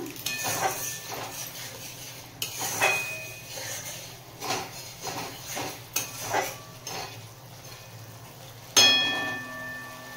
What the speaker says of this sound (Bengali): কাশ্মীরি লঙ্কার গুঁড়ো দিয়েও মিশিয়ে নিলাম